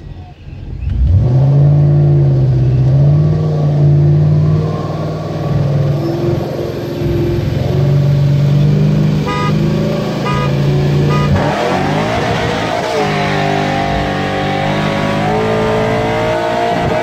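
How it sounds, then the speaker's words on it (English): A supercharged Chevrolet Corvette C6 in a street race against a Lincoln, engine note rising loud and close through sustained revving and acceleration, with a few short horn-like tones partway through and a pitch shift as it pulls away. "And then I'll do 3 honks, okay?"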